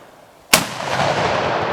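Video game gunfire: one loud, sharp blast after half a second of quiet, followed by a sustained booming rumble and rushing noise that stays loud to the end, with no talk.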